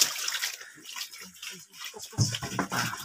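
Water gushes and splashes as it overflows from a dismantled engine, a steady wet rushing that swells near the end with faint talk underneath.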